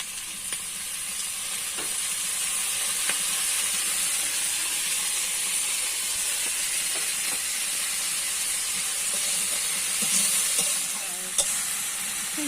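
Taro flowers frying in white oil make a steady, loud sizzling hiss that continues unbroken for several seconds, with faint clicks of a utensil now and then.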